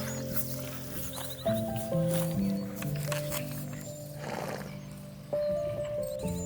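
Several horses move about a field, with soft hoof thuds and an occasional neigh over steady tonal background sounds.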